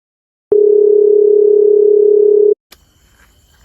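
A telephone dial tone sounds while a call is being placed, one steady unbroken tone lasting about two seconds, loud and clear, followed by faint handling noise and rustle.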